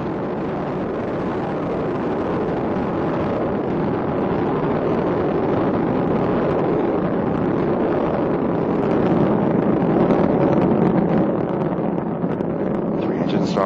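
Space Shuttle Endeavour's three main engines roar continuously through launch from Kennedy Space Center, a dense, loud rumble with wind buffeting that holds steady and swells slightly toward the end.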